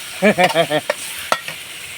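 Mama instant noodles with egg and pork being stir-fried, brief loud scraping strokes of a spatula against the pan in a quick rhythm, then a couple of sharp clacks over a faint sizzle, close by.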